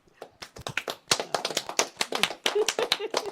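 An audience at a talk-show style event on re-entry applauds with a run of sharp, distinct claps from a modest group, fairly close and lively throughout, with some voices mixed in.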